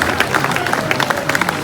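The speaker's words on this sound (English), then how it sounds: "round of applause for them" Spectators at the 2023 Moat Boat Race at the Bishop's Palace in Wells give a race team a short burst of lively, close applause, with many hands clapping quickly and unevenly.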